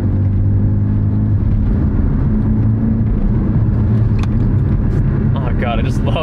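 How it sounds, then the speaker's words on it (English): A Porsche 718 Cayman GTS with a manual gearbox revs its engine while double clutching, giving a loud, steady rumble that rises and falls close up, with voices over it. "Oh god, I just love double clutching this car."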